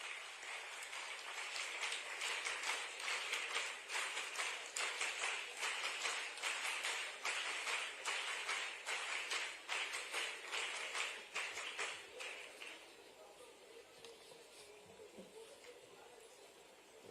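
An audience at a World AIDS Day event applauds as Chief Minister Dr. Mohan Yadav is invited to speak, with sustained, fairly distant rhythmic clapping that tapers off over the final seconds.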